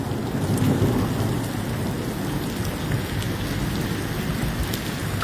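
Heavy rain pours steadily during a severe thunderstorm amid dense fog, a dense continuous roar with low rumbling thunder underneath, close and loud throughout with no talking.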